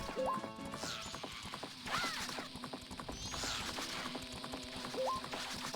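Rapid clip-clop hoofbeats of a galloping horse in the Majora's Mask video game, a steady driving rhythm with game chimes and a whinny-like cue over it, moderately quiet and with no talking.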